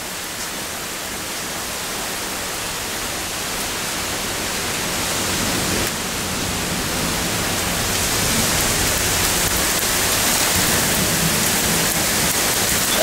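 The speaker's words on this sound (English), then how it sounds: "pea-sized hail falling." Pea-sized hail falls in a severe bow echo storm in Evergreen Park, Illinois, with winds of 40 to 50 mph. A loud, continuous dense hiss of hail and rain builds slightly stronger toward the end, with no talking.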